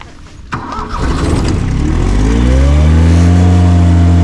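A diesel engine cranks and fires up, then settles into a loud, steady idle with a deep rumbling drone, close by and heard alone.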